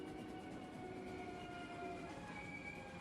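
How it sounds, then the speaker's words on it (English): A train rumbles and screeches in a played sound effect as it slams to a halt, with steady low rolling noise and sustained high metallic squeal tones, faint and even throughout. "the train sort of slams to a halt."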